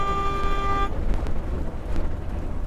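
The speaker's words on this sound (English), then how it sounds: "There's a regular horn." A 37-foot Winnebago diesel motorhome's regular horn blares once in a steady, flat honk lasting under a second, then cuts off, leaving a low engine rumble.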